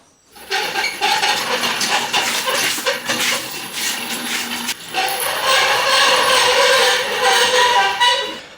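A metal body stand and an old chassis piece from a Land Rover Discovery are dragged across a workshop floor. The scraping and rumbling is loud and continuous, with clanks and a brief break midway.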